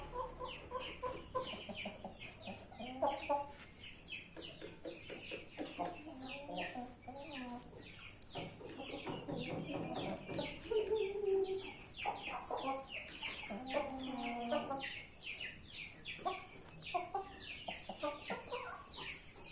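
Indio Gigante chickens cluck steadily at close range, a busy run of short overlapping clucks and squawks from several birds with the odd sharper call, continuing throughout with no talk.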